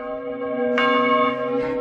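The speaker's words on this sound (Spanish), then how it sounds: "las campanas de la iglesia empezaron a tocar espontáneamente" Church bells ringing, a sustained resonant tone with a fresh strike ringing out partway through and another near the end, loud and clear with no voices.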